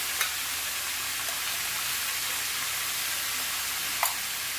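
Spiny gourd (kakrol) frying in a pan with salt and turmeric gives off a steady, broad sizzle that never lets up, with two brief utensil clinks, one near the start and one near the end, and no talking.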